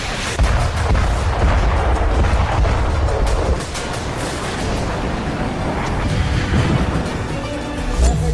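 Explosions from Israeli airstrikes in Lebanon rumble and boom in dense, repeated blasts, a heavy low roar with sharp cracks that eases off midway and then swells again.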